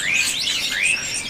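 A caged songbird at a bird seller's chirps in quick, bright, sweeping whistles, close and clear over a quiet background.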